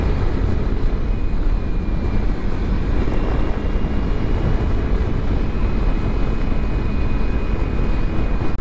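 A Kawasaki Z300 Performance ABS motorcycle rides along small country roads, its engine a constant close drone buried in heavy wind rush, with a thin steady whine above it and no break in the noise.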